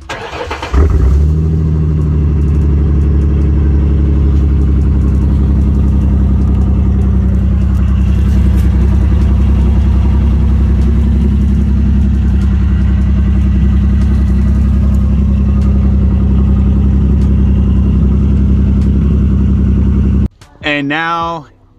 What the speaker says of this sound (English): now here is revving it up so you guys can hear what it sounds like from the outside